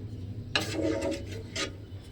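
Washed matar dal (split peas) tipped into a cooking pot, a brief rasping, scraping rush of grains against metal lasting about a second, followed by a short second scrape, close and moderately loud over a low background hum.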